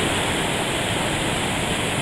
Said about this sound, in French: c'est bien la houle qu'il faut surveiller dans le phénomène des grandes marées à Saint-Malo